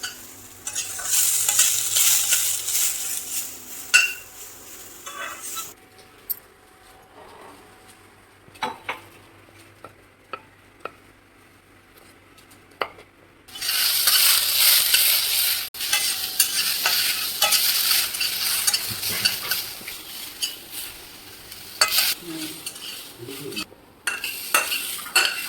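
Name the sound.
roasting okra seeds in a kadhai, stirring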